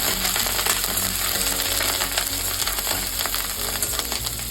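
Mustard seeds, chopped ginger, garlic, green and dried chillies and curry leaves frying in hot oil, a loud, continuous close sizzle with fine popping crackle throughout, no voices over it.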